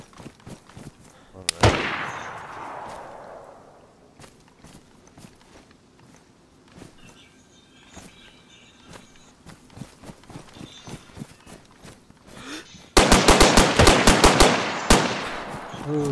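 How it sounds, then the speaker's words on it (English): Gunfight in DayZ with an M16: one loud close shot with a long echoing tail, scattered footsteps and movement, then a rapid burst of automatic fire near the end. "I'm in a gunfight."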